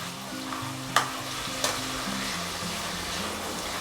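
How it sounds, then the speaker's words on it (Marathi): Coriander leaves frying in oil on medium flame until crisp, a steady close sizzle with two sharp metallic clinks of a stirring spoon early on, no talking. "कोथिंबीरसुद्धा आपल्याला छान मस्त क्रिस्पी होस्तोपर्यंत अशी तळून घ्यायची आहे"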